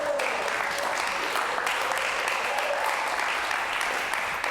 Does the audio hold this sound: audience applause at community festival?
yes